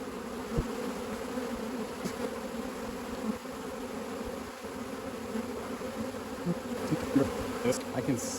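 Dense, steady buzzing of many honey bees around an open hive, a continuous droning hum with occasional louder passes close to the listener.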